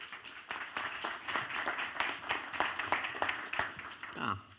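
Applause from a conference audience at a Lightning Network talk as the next speaker is welcomed to the stage, a moderate, irregular patter of many hands that fades out near the end, with a voice briefly starting over the tail.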